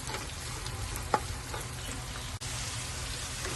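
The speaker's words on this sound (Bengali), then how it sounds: "বিনস আর গাজর আমি ভেজে নিয়েছি।" Beans and carrots frying in a pan for veg fried rice, a dense, even sizzle that runs throughout, with one brief clack of utensil on metal partway through and a short dropout near the end.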